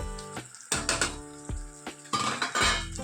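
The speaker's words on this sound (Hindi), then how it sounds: "એક ટમેટું આપણે કાપેલું તેને એડ કરી દઈએ" Chopped tomato tipped into a pan for a sprouted fenugreek seed curry, a few clanks of utensil against metal followed by soft sizzling and stirring, close up with no talking.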